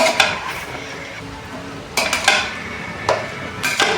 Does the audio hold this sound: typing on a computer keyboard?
no